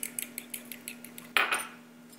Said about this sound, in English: Beat our egg.